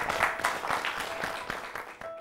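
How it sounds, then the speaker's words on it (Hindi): Studio audience applause at an Indian farm-women awards show, a steady wash of many hands clapping with faint rhythmic peaks, moderately loud and continuous with no talk over it. "एक बार फिर जोरदार तालियों से आपका हार्दिक अभिनंदन"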